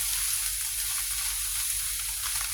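Mussels stir-fried with basil in a hot pan hiss in a loud, continuous sizzle close up, steady from start to finish and free of talk.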